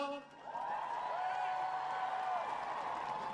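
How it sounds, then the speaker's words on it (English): Crowd applause at the outdoor National Christmas Tree Lighting in Washington, a continuous roar of clapping with cheers and whoops, plus a sustained voice or music tone riding on top. "a big round of applause"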